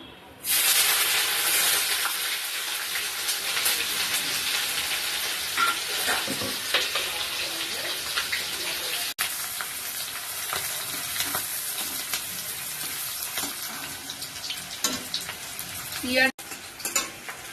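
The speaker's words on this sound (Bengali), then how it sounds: "তেল গরম হয়ে গেছে, কুচনো পেঁয়াজ দিয়ে দেবো।" Chopped onion dropped into hot mustard oil for a Bombay duck fish dish, bursting into a loud, close hissing sizzle that holds steady with occasional spoon scrapes and stirring knocks.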